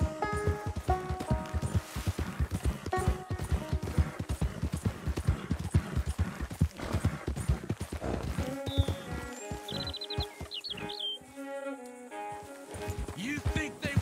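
Rhythmic horse hooves clip-clop steadily in Red Dead Redemption 2 gameplay, a galloping beat carried under a music score and ambient sounds, with a short lull before the hoofbeats resume.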